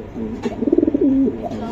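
A racing pigeon cooing close by, a short burst of rapid throaty pulses running into a drawn-out low coo, then a softer coo trailing off.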